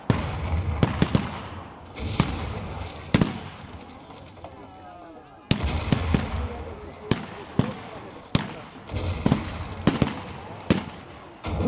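Sharp, booming cannon blasts from a battle reenactment go off every second or so, loud and echoing, with distant voices shouting between the shots.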